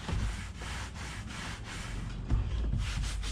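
Rhythmic back-and-forth scrubbing strokes, close and fairly loud, as a kayak floor is cleaned with Simple Green cleaner before fitting EVA foam decking, with gritty rubbing and a brief bump near the end.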